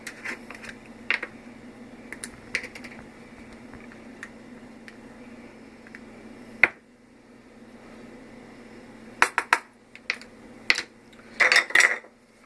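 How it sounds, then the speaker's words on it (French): Egg salad ingredients being mixed in a bowl with a utensil, producing sparse clinks and scrapes against the dish, a few sharper taps near the end over a faint background hum. "Tout mélanger dans un bol et c'est tout."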